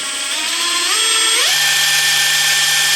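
A Makita XWT08Z 18V brushless cordless high-torque impact wrench spins freely at low speed: a steady, loud motor whine climbs in pitch as the variable-speed trigger is squeezed, then holds an even, continuous drone.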